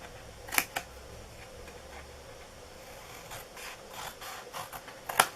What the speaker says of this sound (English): what we're going to cut is this little corner flap right here off